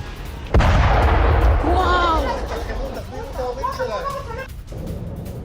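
An Iranian missile strikes its target in Tel Aviv and sets a gas station ablaze: a sudden loud boom, then a rumbling aftermath with excited voices and crowd noise.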